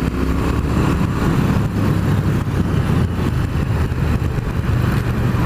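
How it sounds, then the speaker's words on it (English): A 2016 Triumph Thruxton R with a 1200cc engine pulls steadily on the road, its deep engine drone close and constant, mixed with strong wind rush and no talking. "That 1200cc engine is lovely."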